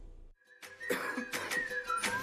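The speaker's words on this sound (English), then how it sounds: "Coughing and throat feeling sore?" After a short silence, a person coughs several times in quick, raspy bursts close to the listener, with a faint whistling tone running underneath.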